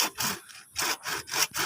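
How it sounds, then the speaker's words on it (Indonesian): Hand saw cutting around the base of a plant pot, quick rasping back-and-forth strokes repeating about every third of a second, close and fairly soft. "Tinggal kita gergaji saja 360 derajat ya teman-teman ya."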